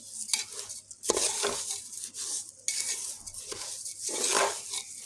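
A spoon scrapes and stirs turmeric into rice in a pan for pulao, making close, uneven bursts of metallic scraping with a faint sizzle underneath.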